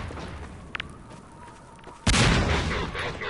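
A grenade explosion in the Half-Life 2 video game, one sudden loud blast after a quieter lead-in, followed by a sustained roaring rumble.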